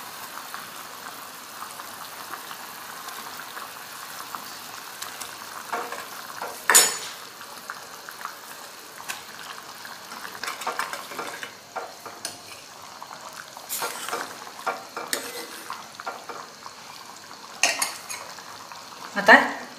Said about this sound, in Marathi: याला चांगली उकळी आली की हे पनीर याच्यामध्ये सोडून द्यायचं.